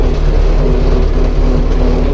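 Close by, the diesel of an MTZ 80 tractor used for hauling hay chugs at a constant idle, a thick low-pitched drone with a regular beat throughout.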